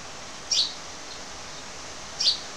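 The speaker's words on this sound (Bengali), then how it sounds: "আমার রুমের পাশে একটা পাখি দেখতে পাচ্ছেন, চড়ুই পাখি।" A sparrow beside a room in heavy rain gives two short, bright chirps about two seconds apart over a steady background of rain noise.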